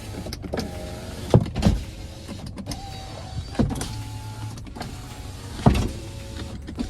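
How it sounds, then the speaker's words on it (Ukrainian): Electric power windows of a 2019 Volkswagen Passat B8 R-Line, 2.0 TDI, glide up and down inside the car: several short motor whirs, each ending in a soft thump as the glass seats, close by in a quiet cabin. "Вікна всі з доводчиками гарно працюють"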